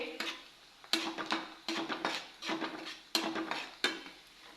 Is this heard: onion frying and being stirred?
yes